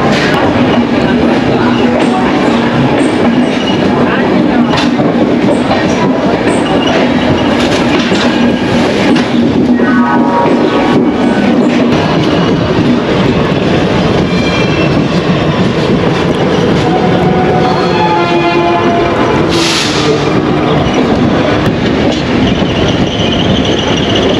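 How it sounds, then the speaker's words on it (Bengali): A long-distance passenger train pulls out of Howrah station, loud and close with continuous rumbling, rhythmic clickety-clack of wheels on rail joints, and brief screeching and whistle-like tones over the motion noise. "আর আমরা জাস্ট হাওড়া স্টেশন থেকে বেরিয়ে যাচ্ছি।"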